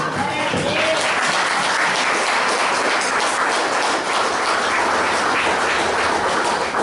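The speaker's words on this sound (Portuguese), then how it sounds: "Mais palmas ao Senhor." A congregation at an evening church service applauds loudly and continuously, a thick wash of clapping with faint voices and cheers mixed in throughout.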